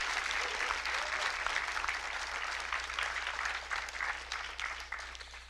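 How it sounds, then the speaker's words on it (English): Sustained audience applause for a game's creative team at a stage event, dense and steady throughout, tapering slightly toward the end. "another round of applause for the creative team behind Jedi Survivor"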